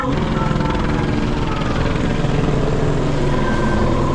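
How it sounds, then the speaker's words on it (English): A sheriff's helicopter circles overhead during a raid and protest in Los Angeles, its rotor drone loud and steady throughout with no pause, mixed with general street noise. "sheriff's helicopter just chilling, moseying around"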